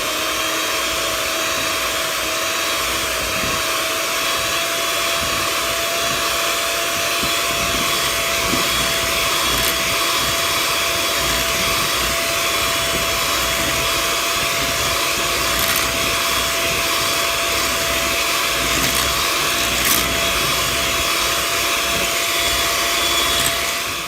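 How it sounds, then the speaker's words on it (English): A hand mixer whirs steadily while beating milk tart filling for South African melktert, a loud continuous motor drone with no pauses and no talking. "The hand mixer to get all the lumps out."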